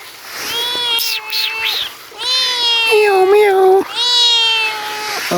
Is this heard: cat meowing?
yes